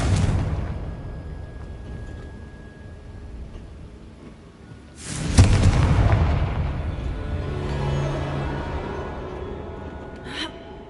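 Confringo fire spell from Hogwarts Legacy: a sudden heavy explosive boom mid-clip with a rumbling tail, preceded by quieter game ambience and followed by a faint later burst.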